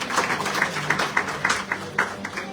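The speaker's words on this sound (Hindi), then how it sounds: "एक बार सर के लिए जोरदार ताली होनी चाहिए।" Sparse hand clapping from a small audience greeting a man on stage at a network marketing business seminar, a dozen or so distinct claps at an uneven rhythm, moderately near, with faint room noise and a hint of voices.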